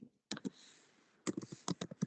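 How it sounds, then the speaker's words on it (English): Computer keyboard typing, a quick burst of close, soft clicking keystrokes, then a short pause and another flurry of taps, quiet and alone. "Someone typing."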